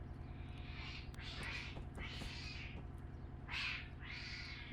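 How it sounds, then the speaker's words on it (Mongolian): A cat meows outdoors, with several drawn-out meows in succession over a steady low background hum. "Өө энэ гадаа нэг муур шүү дээ."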